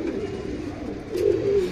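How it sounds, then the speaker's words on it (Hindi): A Bhavra pigeon with Pepsi-coloured eyes, one of a Madrasi pair, gives a soft, low coo near the end, close by over a faint background murmur. "भवरा कबूतर है भाई, पेप्सी आइज में है"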